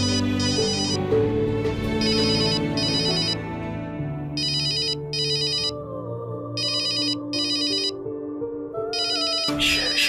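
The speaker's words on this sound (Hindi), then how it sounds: "नहीं, ये पक्का सुनैना ने कॉल किया होगा।" A phone ringtone plays a repeating melodic pattern in bursts, ringing several times at moderate loudness over a bed of television drama background music, with no talking.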